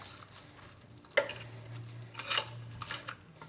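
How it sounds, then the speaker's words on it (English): Metal utensil scraping and clinking against a Copper Chef pan while oyster sauce is stirred into a seafood boil, a few soft close scrapes over a low steady hum. "just mix this all around, okay? We're just going to mix it."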